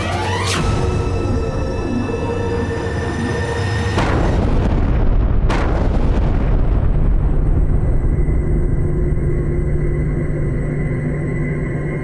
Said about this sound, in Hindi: इसका अर्थ है कि हम इस विस्फोट में मरने वाले थे।